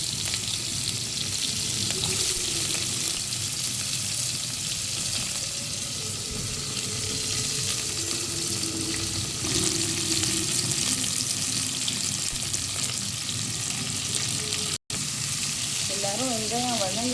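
Onions and tomatoes sautéing together in hot oil in a pan for a home-cooked curry, a steady close sizzle and hiss throughout, with faint clinks and a brief break near the end.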